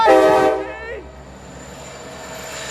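A Nathan K5LA horn on Norfolk Southern SD70 locomotive 2517 gives one loud, short chord-like blast that cuts off quickly, followed by the low rumble of the passing train.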